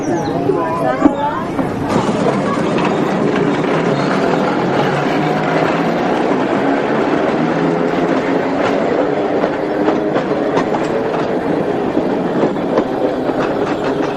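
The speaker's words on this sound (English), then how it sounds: "There are not many museums which you can ride around in a tram." A museum tram rolling along its track gives a continuous rumble with rhythmic clicks and clatter, loud and close, and people's voices murmur beneath it throughout.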